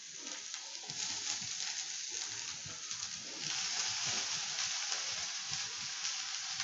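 Chopped onion sauteing alone in a hot pan, giving a steady close sizzle with soft crackle and occasional stirring scrapes, getting a little louder partway through.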